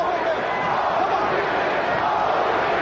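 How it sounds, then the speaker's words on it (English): A boxing arena crowd at the Holyfield versus Lewis heavyweight fight roars loudly and continuously, with a ragged attempt at chanting Holyfield's name blended into the noise. "Crowd trying to chant Holyfield."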